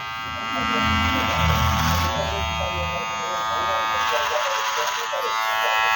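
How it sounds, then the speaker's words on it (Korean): Electric hair clippers buzz steadily through a short men's haircut, cutting the line about 3 cm higher at the back. Someone speaks over the constant close drone. "바리깡 라인을 약 한 3cm 정도 올려서 커트를 할 거예요"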